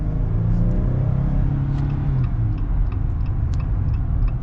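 The 3.6 liter V6 of a 2022 Jeep Gladiator Rubicon runs with a steady low rumble from inside the cabin, joined by faint light ticking clicks throughout.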